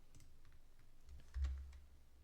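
Mouse clicks during a computer-aided mechanical drafting exercise: a few faint, quiet clicks scattered over a soft background hum, with no talking.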